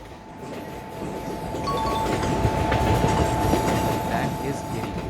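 A train accelerates in the Train Master Pro video game, with a rumbling rail roar that grows louder partway through, a steady tonal whine overhead and faint rhythmic wheel noise.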